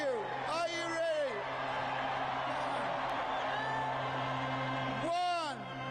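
A concert crowd in Chicago roars steadily, with loud rising whoops and shouted yells breaking out near the start and again near the end.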